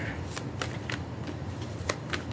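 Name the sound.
tarot cards being shuffled and drawn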